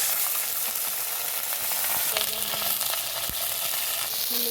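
Onions sizzle steadily in hot oil, a dense continuous frying hiss with a few scraping stirs and small clinks from a spoon, close and moderately loud, no talking.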